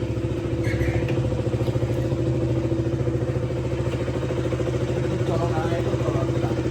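A KTM Duke motorcycle engine cold-starting and running with a steady, loud mechanical idle throbbing close by, continuous throughout, with a voice talking briefly over it.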